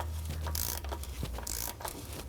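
Ratchet clicking and turning as the oil filter housing is tightened on a 2014-2019 Toyota Corolla 1.8L during an oil change, a short burst of close mechanical ratcheting over low garage hum.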